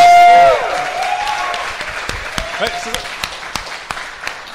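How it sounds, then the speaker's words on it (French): A small bistro audience claps for the host, scattered sharp individual claps rather than a full ovation, under and after brief talk. "Merci beaucoup, on l'applaudit."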